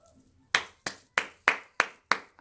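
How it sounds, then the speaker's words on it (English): One person claps seven times at a steady, even pace, each clap sharp, close and loud with a short decay. There is quiet before the first clap and no voices in between. "I got to give y'all a round of applause, my Cancers."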